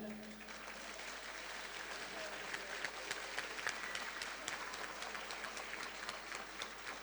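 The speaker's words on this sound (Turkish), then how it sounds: "Şimdi siz köylülerimiz eğer dernek yönetim kurulunu çok iyi alkışlarsanız çok hizmet alırsınız." Villagers clap for a village association board at a traditional evening event of a Turkish village culture and solidarity association, with dense, sustained applause building into sharp individual claps, fairly close and loud.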